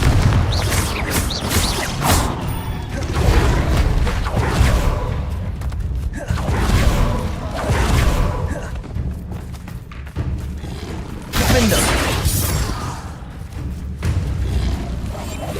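Spell blasts from the Bombarda and Confringo explosion spells in the Hogwarts Legacy video game, heavy booming thuds and whooshes recurring every few seconds over a dense, continuous game soundscape with no talk.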